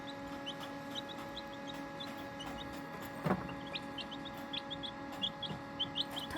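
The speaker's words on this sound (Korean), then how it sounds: "보시면 지금 소리는 세레마가 우는 소리예요" Serama bantam chickens, the world's smallest chicken breed, call with short high clucks and chirps repeating through the clip over a steady background hum.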